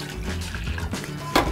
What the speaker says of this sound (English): I'm gonna pour some beer